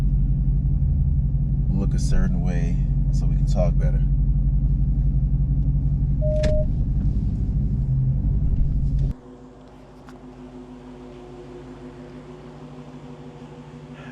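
Dodge Hellcat backing into a garage, a deep, steady engine rumble idling close by with someone talking over it, then the engine cuts off abruptly and only a quieter hum remains.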